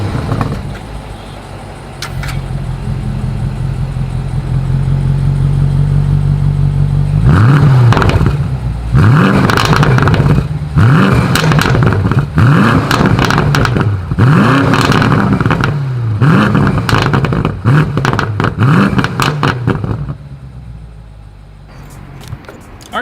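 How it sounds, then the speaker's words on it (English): A 2020 BMW M850i Gran Coupe's exhaust revs repeatedly in sport mode, loud rising and falling bursts of engine roar with crackles, after a steady idle, then settles back down. "you guys will hear all of the wonderful crackle that comes with the M850i"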